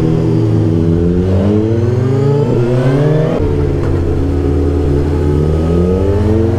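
Motorcycle engine on a hairpin-bend riding exercise, loud and close, revving up and down in rising and falling sweeps with a steady strong drone throughout.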